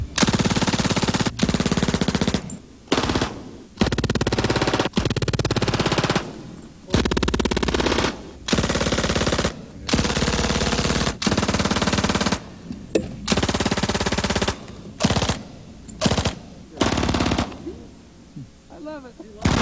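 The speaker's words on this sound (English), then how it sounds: "The classic Browning automatic rifle, or BAR, been popular in two wars." Browning automatic rifle (BAR), fed from a 20-round magazine or 50-round drum, fired in repeated loud bursts of rapid shots separated by short pauses, close and dominating throughout.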